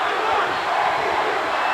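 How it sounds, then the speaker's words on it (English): A dense arena crowd at the Chicago Bulls' 1991 NBA championship celebration roars and chants without pause, loud and close, a broad wash of many voices filling the whole moment. "Crowd chanting MVP."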